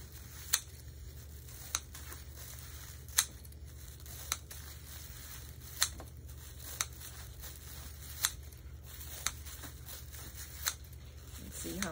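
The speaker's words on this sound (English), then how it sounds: "this is a good pair of strong scissors, and they cut through 4 bags at the same time" A strong pair of scissors cuts through a stack of four plastic bags to make plarn. Sharp snips come about every second over a faint, quiet background.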